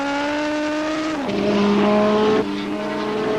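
Kawasaki superbike racing motorcycle engine from 1979 superbike racing, wailing loud and close with a steady high-revving harmonic whine that drops sharply as a gear shift is missed, then holds and shifts again.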